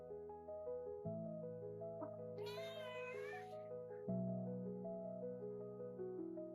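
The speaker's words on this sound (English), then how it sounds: "No, that's Violet, she's a tuxedo kitty and she's a midget." A tuxedo cat meows near and fairly loudly, one drawn-out cry rising and falling over a steady tonal hum in the background.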